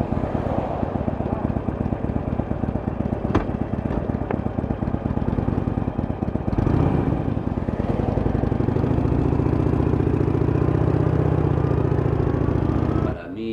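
Harley-Davidson motorcycle engine running steadily at close range, a continuous low throbbing rumble that swells briefly around the middle and holds loud until it cuts off near the end.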